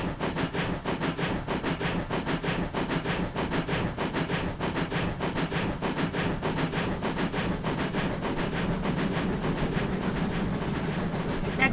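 A GWR Cathedral class steam locomotive, a concept engine that never existed, climbs an uphill grade in Train Simulator 2021, with loud, steady rhythmic exhaust beats and running clatter continuing unbroken and close throughout.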